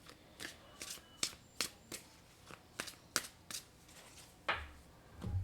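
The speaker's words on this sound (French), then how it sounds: "Je vais prendre 2 cartes." Tarot cards shuffled and handled at close range, a run of sharp papery flicks and snaps in an irregular rhythm with brief pauses between, ending in a slightly heavier slap and rustle.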